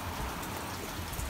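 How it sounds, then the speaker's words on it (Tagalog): Steady rain falls as a dense, even hiss of raindrops, soft and continuous with no voices over the short stretch. "Napakasarap po talagang pakinggan ng patak ng ulan."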